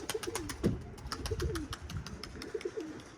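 Several pigeons coo in soft, rolling phrases, repeating in short bursts with a brief flutter partway through; close by, with a faint background hum.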